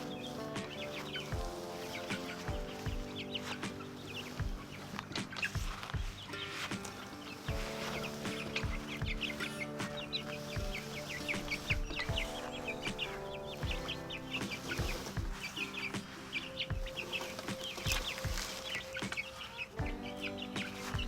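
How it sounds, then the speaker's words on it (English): Young Lavender Orpington chickens in a chicken tractor clucking and peeping softly on and off, with scattered chirps over a low background hum; no one speaks. "I have 6 lavender Orpingtons that I hatched a few weeks ago."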